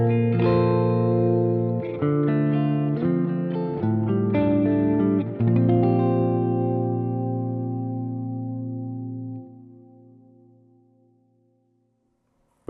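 Electric guitar through an Archetype Plini X amp plugin with reverb stereo width dialed fully narrow, playing a short chordal phrase whose sustained final chord rings out and decays smoothly into silence.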